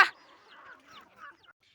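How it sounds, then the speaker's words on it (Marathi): Farm hens clucking softly in short, scattered calls after a sharp opening sound, faint and fairly close, with no talking. "हे बघा मित्रांनो ह्या आहेत माझ्या कोंबड्या"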